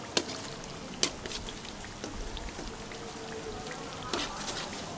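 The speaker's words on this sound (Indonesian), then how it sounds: "Aduh, hujan deras." Heavy rain falling outdoors during cooking, a dense steady patter of drops on surfaces with a few sharper nearby drip impacts.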